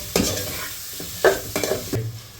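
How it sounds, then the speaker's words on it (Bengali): Meat frying in a pan for biryani, stirred in a few quick scraping bursts over a steady low sizzle, close and fairly loud, with no voices. "মাংসটা দিয়ে দিব মাংসটা ভালো করে ভেজে নেব"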